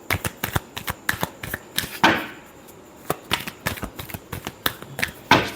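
Tarot cards being shuffled by hand, a run of crisp, rapid riffling snaps and flicks in close succession with brief pauses, near and fairly loud, no talking.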